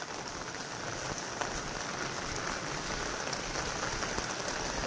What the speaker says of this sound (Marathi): एवढा भयंकर असा पाऊस रात्रभर पडतोय.